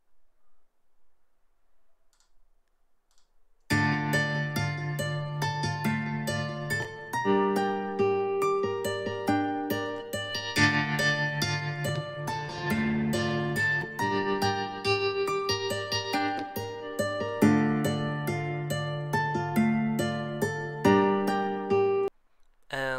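After a few seconds of near silence, a clean electric guitar plays ringing chords and picked notes steadily, bright and undistorted, with no voices.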